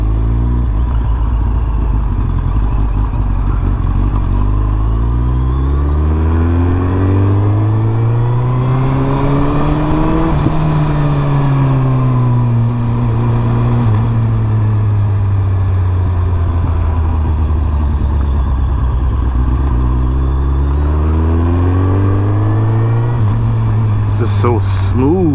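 A 2008 Suzuki Hayabusa motorcycle runs after sitting for over a year, its engine loud and close, rising and falling steadily through smooth revs and shifts, with some brief clicks near the end.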